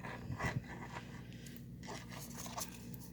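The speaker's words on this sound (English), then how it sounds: "zipper over there making noise" Zipper noise while crocheting around a zipper: faint, brief scraping zips and rustles, quiet and close, with no talking.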